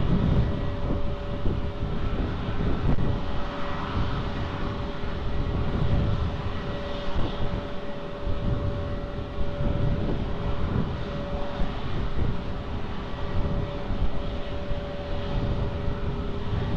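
A fixed-wing airliner takes off at Lisbon Airport, its engines producing a continuous, fairly loud roar that holds steady throughout, heard from a distance with wind noise and no talk.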